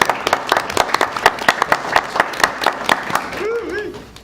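Brief round of applause at a school district board meeting, a scatter of distinct claps from a modest group, with talk breaking in near the end.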